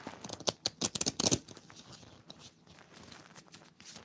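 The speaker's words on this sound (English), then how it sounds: "Shuffled the cards. Shuffle, shuffle, shuffle." A deck of playing cards is riffle-shuffled in a quick crackling burst, followed by softer, sparse handling of the cards in a quiet room.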